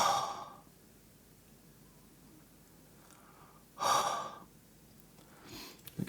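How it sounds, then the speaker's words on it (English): Breath blown onto a handheld temperature and humidity sensor: two strong, breathy exhalations roughly three seconds apart, each lasting about half a second, followed by a softer third puff, close and clear with no talking. "Let me try and breathe on this."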